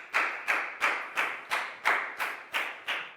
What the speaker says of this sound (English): High five and a big round of applause for Pak Bung